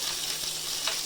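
Spices, onion, dried and green chillies and garlic fry in a pan, a steady close sizzling hiss with no talk.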